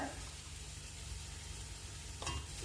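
Curry leaves go into hot oil for a mutton pepper roast, giving a faint steady sizzle that ends in a short louder crackle and stir.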